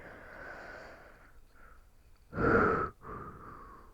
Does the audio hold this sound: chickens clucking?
no